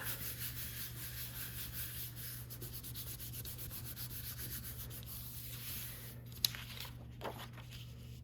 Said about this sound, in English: flip them over and rub firmly from the back side